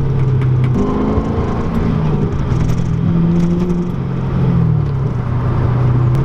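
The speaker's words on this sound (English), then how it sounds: "there's some really nice crackles and pops every once in a while that I like a lot." A 2006 Pontiac GTO with a 6.0 V8 runs steadily at close range, its low exhaust note shifting in pitch as it decelerates. Faint crackles and pops are scattered through the drone.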